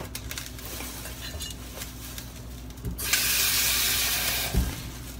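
Water sprays to rinse an already washed item, first a quieter hiss with light clinks, then a louder steady rush of running water and a dull knock near the end.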